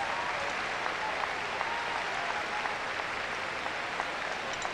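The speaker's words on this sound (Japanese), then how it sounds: "大きな拍手が甲子園全体から起きています。" Sustained applause from a large crowd at Koshien stadium during a summer high school baseball game, steady dense clapping filling the whole clip with a faint murmur of voices beneath.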